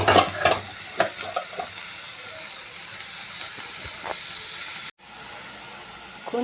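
Beetroot being stirred and sautéed in a hot pan, with loud sizzling and frying hiss, scraping stir strokes and spatula knocks near the start, a brief cut, then steady frying.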